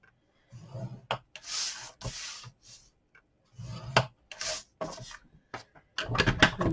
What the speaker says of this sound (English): just spin it round and score on all your sides at 1 inch.